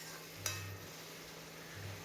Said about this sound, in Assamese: এই গোটেইখিনি অলপ সময় ভাজিম।